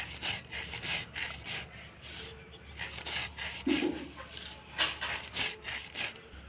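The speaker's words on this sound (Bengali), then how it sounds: "চিনিটা এইভাবে মিহি করে গুঁড়ো করবো" Sugar ground into fine powder makes soft, rhythmic rasping and rubbing strokes, fairly quiet and close, with no speech.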